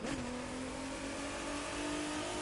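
A V6 hypercar engine in The Crew 2 revs hard up close, a rising growl that settles into a sustained high-pitched drone with no talking over it.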